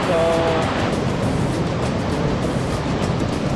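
A waterfall on a hiking trail roars as a steady, loud wash of rushing water that fills the whole moment without a break.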